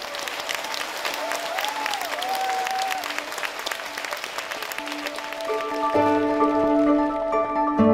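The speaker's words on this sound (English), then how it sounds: "Let's thank Cynthia Ferrell with another enthusiastic round of applause." An audience applauds speaker Cynthia Ferrell at a large gathering, a broad steady clatter of clapping for several seconds that gives way near the end to music entering, sustained tones rising over the fading applause.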